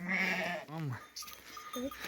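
A few bleats from sheep, close and fairly clear, with a person's voice in the background amid farmyard noise.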